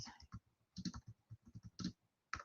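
Someone types on a computer keyboard in quiet, irregular bursts of clicks with short pauses between them. The keystrokes are faint and close, and there is no clear speech.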